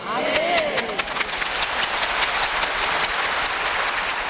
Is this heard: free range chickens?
no